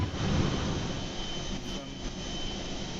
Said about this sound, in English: The engine's back on now.